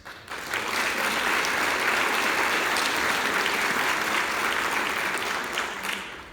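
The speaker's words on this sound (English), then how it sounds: "You guys don't have to clap for everything." Sustained, dense clapping from an audience at a Knox County political forum in Maine, steady and loud for several seconds, then tapering off at the end.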